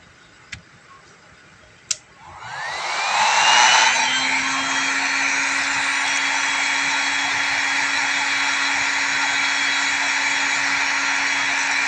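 A repaired hot air dryer clicks twice, then spins up with a rising whine into a steady, loud blowing hum that holds for the rest of the span, with no talk.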